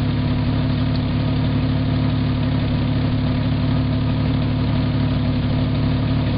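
A car engine idles steadily before it has reached full operating temperature, a continuous low rumble with a constant hum that holds unchanged throughout, close and fairly loud, with no talking.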